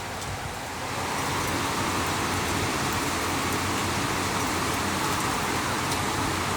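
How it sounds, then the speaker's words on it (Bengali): Heavy rain pours down in a dense, unbroken hiss that builds within the first second and then holds steady and loud with no pauses and no voices. "মুষলধারে বৃষ্টি হচ্ছে"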